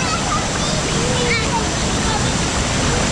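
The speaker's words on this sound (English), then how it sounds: "The waterfall current strong, man." Steady, full roar of strong rushing water at Cane River Falls in Bull Bay, St Andrew, Jamaica, constant and close throughout, with voices faintly in the background.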